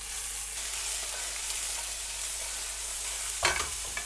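Sliced Vienna sausages, onions and mushrooms fry in oil in a pan for a stir-fry. A steady, broadband sizzle holds throughout, and a brief clatter of stirring or food being added comes near the end.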